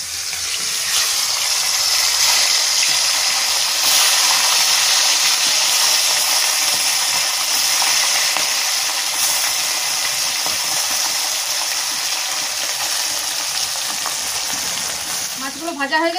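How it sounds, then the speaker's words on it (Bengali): The rest of a batch of small pond fish, bata, frying in hot oil, a loud continuous sizzle with crackling and hissing spatter that holds steady throughout and fades slightly at the very end, with no voices. "এবার বাকি মাছগুলো ভেজে নেব।"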